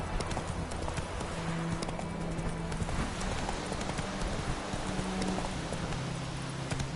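A horse's hooves clip-clop steadily in The Witcher 3: Wild Hunt on PS4, a continuous galloping beat under an ambient outdoor backdrop, fairly faint overall.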